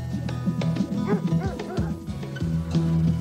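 A dog barks and yips in a French TV trailer, a quick series of sharp barks and whimpering yelps over music and background sound.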